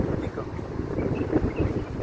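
Wind gusts by the sea buffet the microphone in a low, rumbling roar, with a faint wash of open water in the background.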